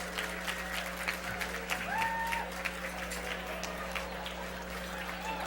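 Audience at a Milken Institute speech event applauds in a steady, dense wash of clapping that holds at moderate volume for several seconds with no talk over it.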